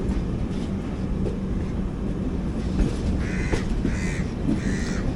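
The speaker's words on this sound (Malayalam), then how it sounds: "നമ്മൾ ജസ്റ്റ് കർമാളി സ്റ്റേഷനിലേക്ക് പ്രവേശിക്കുന്നു." The Mandovi Express rumbles steadily into Karmali station, a heavy rolling noise of wheels and carriages, while crows caw nearby over the din.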